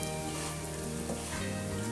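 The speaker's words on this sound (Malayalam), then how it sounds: "ഇനി ഹൈ ഫ്ലെയിമിൽ വെച്ച് കൈയെടുക്കാതെ റൈസ് നല്ല ഫ്രൈ ആവണ വരെ" Cooked rice for chicken fried rice stir-fried over a high flame, with a continuous close sizzle and the soft scrape of constant stirring in the pan.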